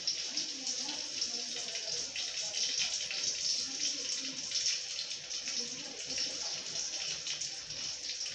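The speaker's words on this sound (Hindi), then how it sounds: "अब हम लोग 1 बाय 1 इसके अंदर डाल रहे हैं, क्योंकि इसके अंदर अच्छी तरह से ये डीप हो जाएंगे। डीप फ्राई करना है हमें" Stuffed karela bitter gourds deep frying in hot oil, a dense, continuous bubbling sizzle held at steady loudness throughout, close and alone.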